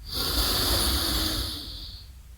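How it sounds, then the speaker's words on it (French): One long, steady exhale through a single nostril during alternate nostril breathing in a yoga pranayama practice, a close, airy hiss that swells quickly and fades gently over about two seconds, with no talking. "Ici, nous faisons une respiration alternée sans rétention."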